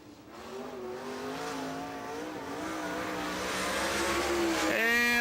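A white super late model race car at Rome Speedway in Georgia revs and accelerates, its engine note rising and climbing steadily louder as it runs a lap, with an announcer talking over it.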